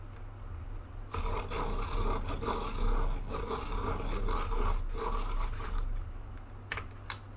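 An electric sharpener grinds a Prismacolor Premier colored pencil in a steady close whir lasting about five seconds, starting abruptly, with a few short scratchy bursts as it winds down.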